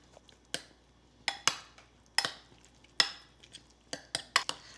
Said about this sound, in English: Then just add your egg white to the bowl and stir this up.